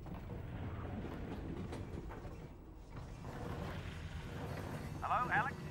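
A train rolling on rails in the video game Half-Life: Alyx gives a steady rumbling, rattling clatter at moderate volume, partly under a voice talking.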